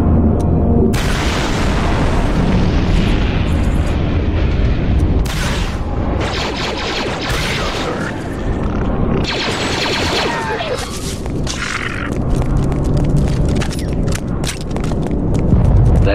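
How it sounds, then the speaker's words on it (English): Booming explosions from a distant battle in the video game Star Wars: Republic Commando, repeated heavy blasts and bursts over continuous combat rumble, with voices talking over them. "Doesn't sound good. Must be the battle upstairs."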